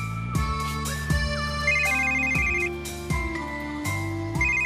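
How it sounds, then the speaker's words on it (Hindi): A phone ringtone plays a repeating electronic melody of bright tones, cycling in short phrases about once per second, clear and fairly close with no voices. "अब फोन उठा ले"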